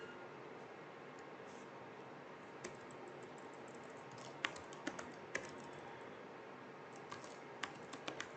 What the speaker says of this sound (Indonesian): kita cukup mengetikkan perintahnya saja langsung seperti itu